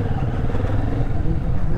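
A Kawasaki ZX-4RR motorcycle engine running close by, a loud, steady buzzing drone with slight rough fluctuation and no audible talk over it.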